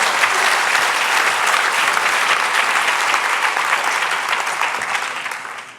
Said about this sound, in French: On peut encore applaudir Claire Lucie.